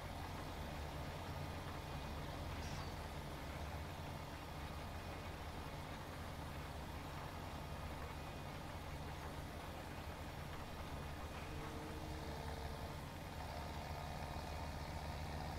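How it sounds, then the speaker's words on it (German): A tractor engine in Farming Simulator 17 idles in a steady, unbroken low rumble, faint and constant throughout, with no speech. "Geil, Trecker fahren,"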